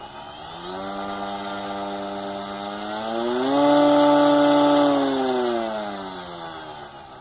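The small motor of an FT Duster RC crop duster model plane runs up, a close, buzzing whine that rises in pitch to a peak, holds, then eases back down.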